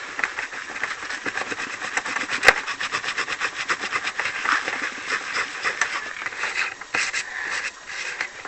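A cloth rubs steadily over an Xbox 360 disc, giving a continuous scratchy, rhythmic swishing close to the microphone, with no talking.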